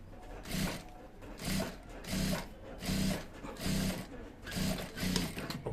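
Sewing machine stitching the welt pocket on an English-style trouser, running in about seven short, evenly spaced mechanical bursts with brief pauses between, fairly quiet and close.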